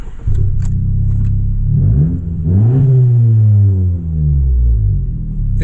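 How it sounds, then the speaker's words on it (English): A 2018 Honda Civic Sport with automatic transmission, lowered suspension and custom dual exhaust pipes cranks and fires up, then its engine revs up in a loud, close rumble that rises and settles to idle. "Let's start the engine."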